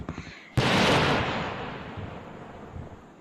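A rocket firecracker bursts in a firecracker simulator video game, one sudden loud blast followed by a long rumbling, fading tail.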